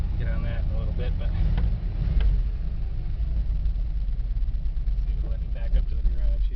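A 1977 Dodge van's engine idles with a steady low rumble close by, running continuously while a person talks over it.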